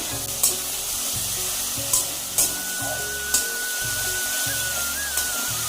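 Fish sizzling and frying in oil with a coarse paste of grated ginger, garlic and green chilli, a steady bubbling crackle punctuated by a few sharp scrapes of stirring.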